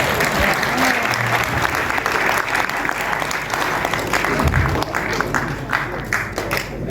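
Audience applause at a tribute gathering for a poet, a steady dense wash of many hands clapping that holds for about seven seconds, with faint voices underneath.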